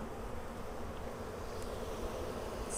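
Honey bees buzz steadily around an opened Flow Hive during a hive split, a soft continuous insect drone at moderate distance with no talk.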